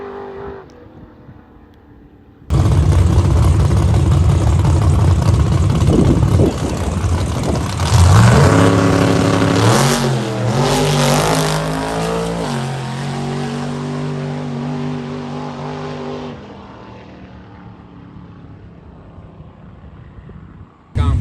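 Fast race cars revving and accelerating at Lebanon Valley track during testing, a loud sustained engine roar that rises and falls with rising pitch sweeps, then eases off toward the end.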